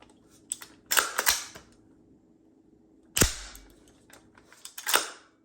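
Sharp mechanical clicks and snaps from a Geissele SD Super Dynamic Combat Trigger on a left-handed Stag Arms rifle build, several crisp isolated clicks in two clusters with quiet gaps between them, close and fairly faint.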